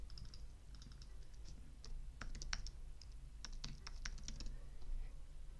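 Quick, light keystrokes tap on a computer keyboard in short irregular bursts while data is entered in Excel, close and fairly quiet over a soft background hum.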